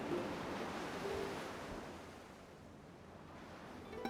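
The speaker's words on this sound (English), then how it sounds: "the sound of waves crashing on the shore, I'll be honest, it's very soothing" Waves wash onto the shore in a steady, soothing surf roar in the game Assemble with Care, slowly easing off over a few seconds with no talking.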